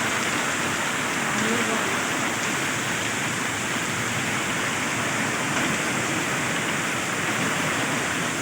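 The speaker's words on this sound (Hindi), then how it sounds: "इतनी तेज़ बारिश लगी है, तूफानी बारिश किस्म की" A torrential downpour over a Kashmir bazaar street in Samani valley, constant and loud, a thick hiss of rain without pause from start to finish.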